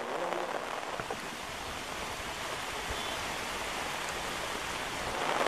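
Heavy monsoon rain falls by the swollen Sutlej river in Punjab, a dense, steady hiss with no pauses.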